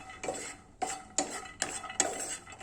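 Almonds and cashews tossed in a hot pan on the stove, giving a series of quick rattling, scraping stirs with short pauses between them, close and fairly quiet.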